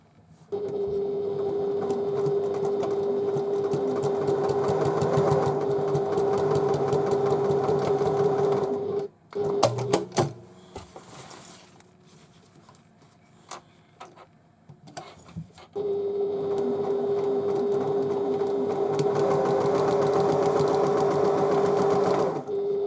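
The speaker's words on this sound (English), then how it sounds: "And then we fold the seams over and top stitch." A sewing machine runs steadily while top stitching the folded-over seams of a tote bag, with a loud continuous hum in two long runs broken by a few seconds of quieter handling and rustling in between.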